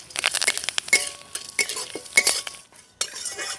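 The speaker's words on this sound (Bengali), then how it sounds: "এবার এগুলোকে হালকা একটু ভেজে নেব" A spoon scrapes and clinks in a pan while chana dal and curry leaves fry, irregular bursts of stirring and metal chinks with a faint sizzle between, close and fairly loud.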